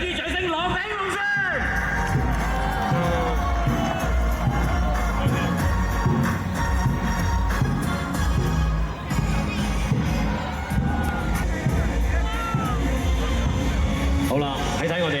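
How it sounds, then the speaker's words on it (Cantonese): A huge crowd roars and cheers steadily at a dragon boat race in Diejiao, Foshan, a dense, unbroken wall of shouting and babble with a voice talking over it throughout. "大家俾啲掌聲，攞起龍船！"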